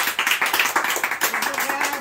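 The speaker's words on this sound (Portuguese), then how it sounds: "Merece uma salva de palmas" Lively clapping at a family gift-unboxing moment, a quick uneven run of sharp hand claps close to the microphone, with voices mixed in.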